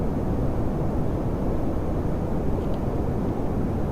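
A steady, dense roar from a rocket engine in Kerbal Space Program, holding as a broad continuous rumble without breaks, loud and unaccompanied by talk.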